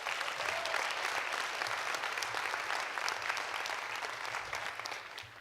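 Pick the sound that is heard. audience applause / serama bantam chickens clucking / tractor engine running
audience applause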